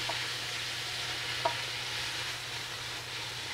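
Bacon stirred and frying in a pan, a steady close sizzle with a couple of faint scrapes from the stirring.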